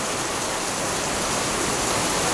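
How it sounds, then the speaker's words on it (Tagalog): Heavy rain pouring down steadily and loudly in a flood-prone neighborhood, a dense, unbroken hiss with no talk. "palakas na ng palakas ang ulan, guys"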